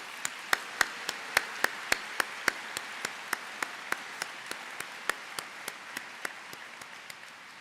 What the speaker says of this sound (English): Another round of applause for these amazing performers.